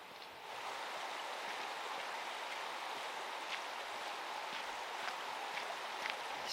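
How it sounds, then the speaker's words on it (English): A mountain stream flows steadily on a hike in Waterton Lakes National Park, a constant broadband rush of water close by with a few small splashes, no talking. "Stream crossing coming up."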